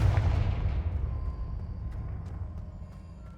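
Confringo spell blast in the Hogwarts Legacy video game: one deep, booming explosion that starts loud and fades away over a few seconds, followed by faint scattered crackles.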